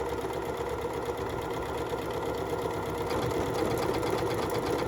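A Janome MC9450 sewing machine stitching a buttonhole, a fast, even mechanical whirr with rapid needle chatter, running continuously close up and getting slightly louder near the end.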